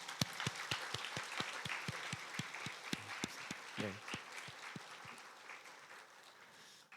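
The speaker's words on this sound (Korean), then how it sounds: "우리 박수로." A church congregation claps for its elders aged 65 and over during Sunday worship, distinct hand claps in a loose irregular rhythm at moderate distance, with a brief spoken word partway through.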